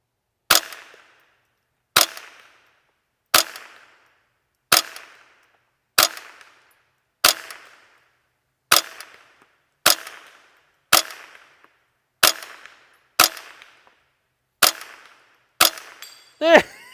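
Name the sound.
22LR Ru-Zooka gunshots at 100-yard steel plate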